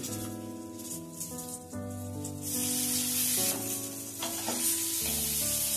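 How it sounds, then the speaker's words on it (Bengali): Cashews and raisins, soaked beforehand, stirred into rice frying in ghee for Basanti pulao, giving a steady close sizzle with scraping stirs that grows louder halfway through; no voices. "কাজু কিশমিশটা একটু ভালো করে চালটার সাথে নেড়ে নেব।"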